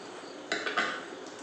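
A spoon stirs Amrit Shakti syrup in a glass, giving a few quick clinks against the glass over a soft background hiss, close by, with no voices.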